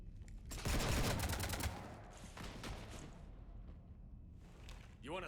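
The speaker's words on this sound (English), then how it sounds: "You want to stop shooting up my ship?" Sci-fi gunfire rips into a ship in Mass Effect 3: a loud burst of rapid automatic shots for about a second, then scattered shots and rumbling impacts fading out, ending with a rising electronic whine.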